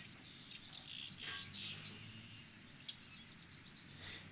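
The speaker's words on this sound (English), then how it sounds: "Birds. Have some birds." Faint recorded birdsong plays on a stream, quiet high chirps and tweets scattered over a soft background hiss, fairly distant and low in level.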